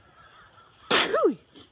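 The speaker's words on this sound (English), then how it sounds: "hold on, I'm gonna sneeze." One sudden, close sneeze bursts out sharply and trails off with a falling vocal sweep over a quiet room.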